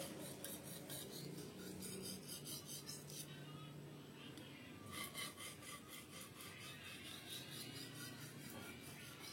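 A short knife is rubbed back and forth on a whetstone in steady, repeated rasping strokes, quiet and close, with no talking.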